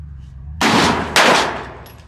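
Two loud, close gunshots at a shooting range, each a sharp blast with a ringing tail, about half a second apart and preceded by a low background hum.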